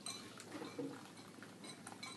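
Chopsticks stirring a flour paste in a bowl as boiling water is poured in, making glue for wet-mounting rice paper. Soft clinks and scraping against the bowl come through faintly and irregularly, with no talk.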